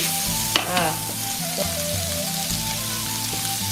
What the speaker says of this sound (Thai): วันนี้ผัดหมูลงไปแล้วในกระทะเรียบร้อยหมูเราเริ่มสุกแล้วนะคะ